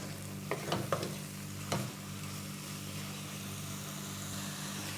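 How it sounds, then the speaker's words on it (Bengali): Boondi is stirred into sugar syrup for motichoor laddu: a few soft clinks and scrapes come early, then only a quiet steady hum with faint bubbling. "রসটা মিশে যাচ্ছে একটু নেড়ে নেব"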